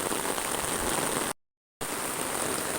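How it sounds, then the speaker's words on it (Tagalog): Heavy rain pours down in a steady, dense hiss of drops hitting surfaces, broken once by a brief total dropout before the downpour resumes at the same strength. "kasi malakas ang ulan oh"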